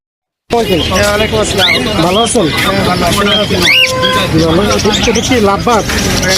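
Caged birds, including budgerigars, at a busy bird market in Meradia after rain, with dense chirping and tweeting mixed with crowd chatter and nearby voices, loud and close throughout.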